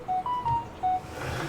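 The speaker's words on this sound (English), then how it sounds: "Okay, that was my phone" A phone gives a short notification of three or four clear beeps at differing pitches in quick succession, fairly close over quiet background.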